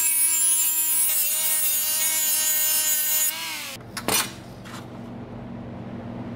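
A power tool grinding down an edge on a car part for an LS3-swapped Mazda Miata, a loud steady whine that cuts off abruptly, followed by a few sharp clanks and a quieter tail.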